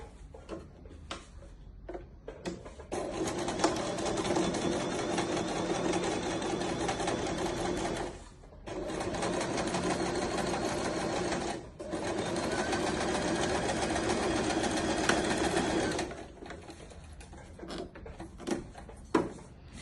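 A sewing machine runs in three long, loud bursts while stitching the edge of a kangaroo pocket, with short pauses between runs and quieter fabric handling at the start and end.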